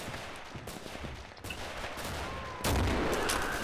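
Gunshots ring out in the World War II shooter video game Red Orchestra. Scattered cracks and rattling fire come at different distances, and a sharp, louder blast lands near the end.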